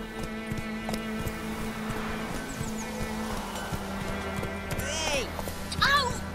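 Roach the horse galloping in The Witcher 3: a steady rhythmic clip-clop of hooves running under game music and ambience, with a short high sound near the end.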